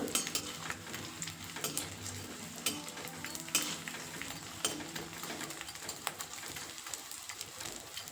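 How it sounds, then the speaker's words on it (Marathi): Pieces of edible gum (dink) puffing up as they fry in hot ghee, added a little at a time, giving a steady close crackling sizzle with occasional stirring clinks and no talk. "थोडा थोडा करून हा डिंक तळून घ्यायचा आहे"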